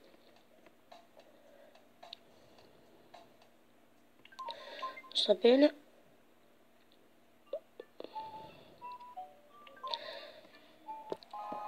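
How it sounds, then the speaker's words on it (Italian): An incoming phone call rings in the Nintendo life-simulation game Tomodachi Life: a brief burst of bright electronic ringing tones in the middle, with other soft game blips and a person talking around it. "Oh, c'è una telefonata."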